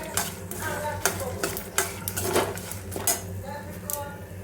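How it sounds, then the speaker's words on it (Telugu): Dried red chillies fry in a pan, with a soft sizzle under repeated metallic scrapes and clinks of a spoon stirring against the pan, close and moderately loud. "ఇవన్నీ ఇలా ఫ్రై అవ్వాలి."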